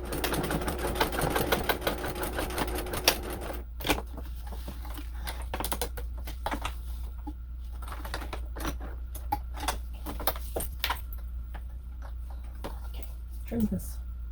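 Home sewing machine running a second line of stitching along a seam, with brief bursts of rapid mechanical stitching and short pauses, close and moderately loud, with some talking in the background.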